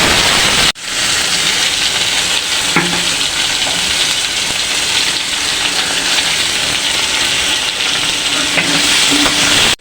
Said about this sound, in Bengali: রাখা আলুগুলি এখন ভেজে নেব।